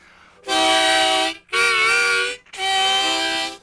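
Three long, loud, harsh harmonica chords, each blown forcefully for about a second with brief gaps between them.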